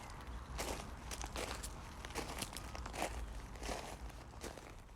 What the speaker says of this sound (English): This could be footsteps in the gravel